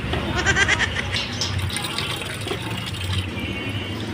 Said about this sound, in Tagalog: Maglalagay ulit tayo ng tubig dito sa sa heater mga idol